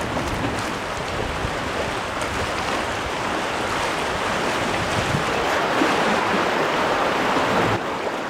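Whitewater riffle below Palisades Dam rushes and splashes steadily around a raft, a dense broadband roar of churning water that stays loud and even throughout with no voices.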